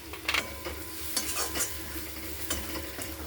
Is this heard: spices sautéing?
yes